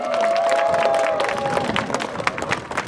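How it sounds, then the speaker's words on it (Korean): Crowd at an outdoor Democratic Party campaign launch rally in Sejong bursts into clapping and cheering, a dense sustained patter near and loud that thins toward the end, with a voice over it. "큰 박수 부탁드리겠습니다"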